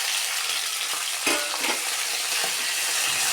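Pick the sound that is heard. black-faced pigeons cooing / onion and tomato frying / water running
onion and tomato frying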